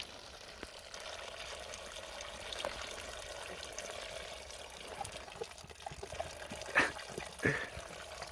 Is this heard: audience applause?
no